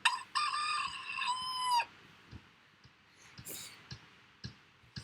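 A rooster that lives at a park crows once, loud and drawn out, followed by a few faint clicks and light knocks in a quiet setting.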